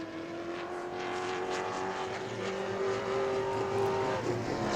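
A Pro Late Model race car on a qualifying run at New Smyrna, its engine holding a steady high drone that builds slightly toward the end, heard alone without commentary.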